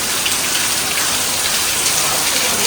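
Heavy rain pours down at night, a dense, even hiss of drops hammering surfaces, loud and unbroken throughout.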